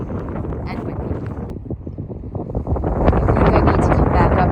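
Strong cold wind buffeting the microphone on the Dante's View trail in Death Valley, a loud continuous roar and rumble that swells toward the end, with no clear talk.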